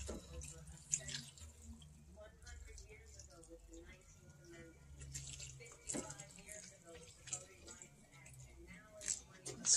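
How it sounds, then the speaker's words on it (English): Hot water poured into a pot of chili on the stove, a running, splashing pour that continues under kitchen clatter and faint background noise. "Let's add some hot water."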